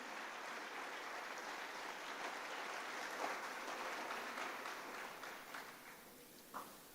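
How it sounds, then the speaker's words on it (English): An auditorium audience at an orientation programme for new undergraduate students at NITK Surathkal applauds in a dense, sustained wash of clapping. It thins slightly toward the end, with a few louder individual claps standing out. "please give yourself a big round of applause to be here at NITK Surathkal"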